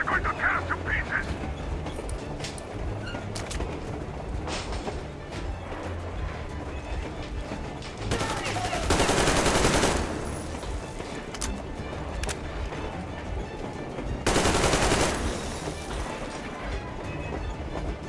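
Gunfire in the shooter game Metro Exodus Enhanced Edition rattles through a noisy battle, with two louder bursts standing out over a constant rumbling, clattering din. Shouted voices come and go throughout.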